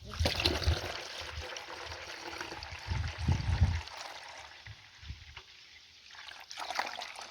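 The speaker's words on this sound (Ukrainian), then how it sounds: "Так, все перелила, перелила в бутилки." Homemade elderflower kvass trickles and pours into bottles in short bursts, with quiet gaps between pours and a soft splashing near the end.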